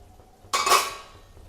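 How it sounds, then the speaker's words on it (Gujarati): A metal lid clanks down onto a pan of Maggi noodles cooking on the stove, one sharp close clink that rings briefly and fades, alone without talk. "હવે આપણે ઢાંકણ ઢાંકી દઈશું"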